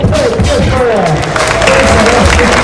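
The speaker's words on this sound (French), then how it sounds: "Alors merci de les applaudir très" Crowd applause and cheering for the French women's football team, loud and continuous near the listener, with voices talking over the clapping throughout.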